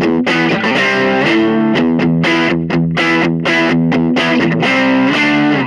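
Electric guitar through an Xotic Effects RC Booster pedal, playing a dense, driven run of notes and chords with a thick, slightly gritty tone, loud and continuous with no voices.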